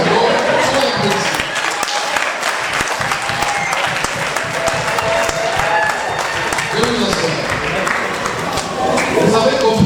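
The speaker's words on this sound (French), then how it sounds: "soyez applaudis" A crowd at a civil wedding ceremony applauds the newly married couple with sustained, dense clapping that continues throughout, mixed with cheers and voices in the room.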